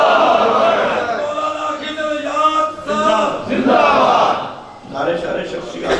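A large crowd at a religious gathering roars the Nara-e-Takbeer slogan in unison, a loud massed chant of voices rising and swelling in waves, close and full.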